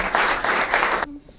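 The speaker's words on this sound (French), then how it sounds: "Ah, vous pouvez l'applaudir vraiment." A concert audience applauds a saxophonist-composer from Limoux at the Lyre de Limoux CD presentation, a dense burst of clapping about a second long that cuts off abruptly into quiet room tone.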